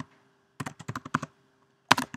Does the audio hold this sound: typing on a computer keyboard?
yes